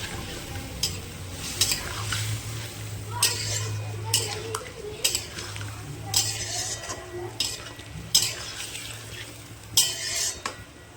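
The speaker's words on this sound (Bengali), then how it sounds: "কষিয়ে নেব।" Butter chicken curry is stirred in a pan with a utensil. Repeated scraping clinks against the metal come over a soft sizzle and a low steady hum, close up, and a voice speaks now and then.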